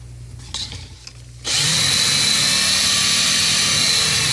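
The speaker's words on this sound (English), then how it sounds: "But we'll just polish this a little. A little green Scotch-Brite." A power tool buffs a vintage Tecumseh 5.5 hp engine part with green Scotch-Brite pad and a touch of solvent, starting abruptly after quieter handling noises and then running loud and steady with a high whine.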